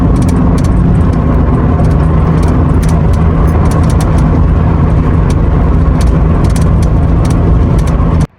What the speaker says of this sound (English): you hear little rattles and this, that, and the third, while going down the highway.